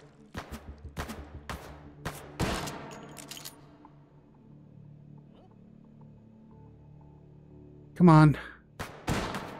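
Gunshots in the VR shooter Hot Dogs, Horseshoes & Hand Grenades on a Wild West map: several sharp, loud cracks in quick succession, then a pause, a brief spoken word and more shots.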